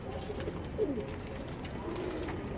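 Soft homing pigeon cooing, a few low murmuring coos over a steady background hum, fairly close.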